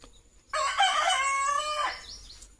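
A Bhimavaram breed rooster at a coastal poultry farm crows once, loud and close, in a single long call lasting well over a second that fades at the end, with no talking.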